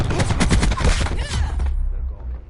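Rapid automatic gunfire in the Black Ops 4 video game, a loud rattling burst with several rounds in quick succession, then tapering off into a low rumble.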